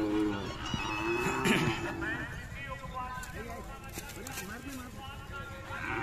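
A large Khillar cow at a village fair gives several long, low moos amid crowd chatter, with hoof clip-clops and bustling livestock noise around.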